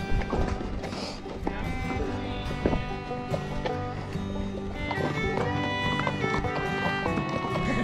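Steady clip-clop of mule hooves at a walking pace on a trail through pines at Bryce Canyon, close, over a bed of music.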